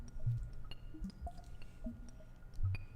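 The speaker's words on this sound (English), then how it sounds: "With, like, the water dropping sound effect and all that." Water drips echo through a Breath of Fire III jail cell on the PS1, a few soft scattered plinks spaced irregularly over a low murmuring background.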